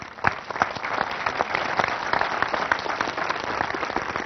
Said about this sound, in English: You parents know why you're applauding